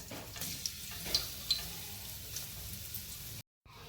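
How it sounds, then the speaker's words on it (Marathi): Cumin seeds and garlic paste fry in hot oil, a steady close sizzle with a few small pops and stirring sounds, ending in a brief cut to silence. "तेल आता आपलं गरम झालं आहे त्यामध्ये आपण जिरेडा घालून घेणार आहोत त्यानंतर लसणाची आपण पेस्ट केलेली आहे ती देखील आता यामध्ये टाकून घेणार आहोत"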